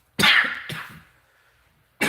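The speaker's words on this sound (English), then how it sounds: "I'm have a bit of a cough today." A person coughs twice in quick succession, close and fairly loud, with a breathy tail, then starts a third cough after a short pause.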